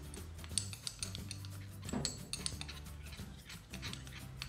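A utensil stirs bakpau batter in a bowl, making quiet, irregular clinks and scrapes of metal against the bowl in a steady mixing rhythm.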